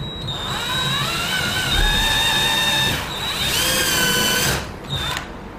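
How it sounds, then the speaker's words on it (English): A power drill whines loudly as it bores a pilot hole into timber for lockset fixing screws, its pitch dipping under load, then a short rising burst and a brief final spin. "I'm always in favor of drilling a pilot hole."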